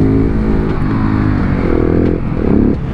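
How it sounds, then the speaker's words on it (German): A KTM 690 SMC R single-cylinder supermoto motorcycle lifting into a wheelie, its engine droning loudly and close with revs rising and falling throughout, slight clattering under the steady roar. "Wir starten das Video erstmal mit einem kleinen Wheelie."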